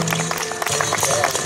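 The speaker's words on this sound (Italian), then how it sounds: "Questi applausi un po' più forti" Audience applause at a folk concert, a dense and steady wash of many hands clapping together, fairly loud and sustained throughout with no pause.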